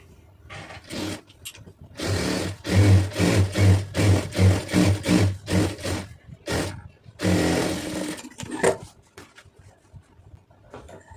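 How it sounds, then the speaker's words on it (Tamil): A sewing machine runs in short bursts while stitching a folded quarter-inch hem on a lined blouse, a loud close mechanical whirr with a rapid pulsing rhythm, separated by brief pauses and a few soft handling clicks. "இப்போ இதை முதல்ல ஒரு கால் இன்ச்சு மடக்கி அடிச்சிடலாம்"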